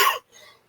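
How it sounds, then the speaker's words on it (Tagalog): A single short cough, sharp and close, followed by a fainter breathy exhale. "Inuubo ko."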